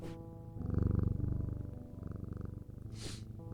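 A cat purrs close up in a steady, rhythmic rumble with soft pulsing breaths, followed by one brief higher rustle near the end.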